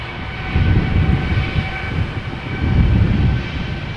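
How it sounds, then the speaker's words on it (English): An Air Europa Boeing 787-9 Dreamliner takes off at Amsterdam Schiphol, a broad, steady jet roar swelling and easing at a distance, with no voices. "And this is a Boeing 7879 Dreamliner"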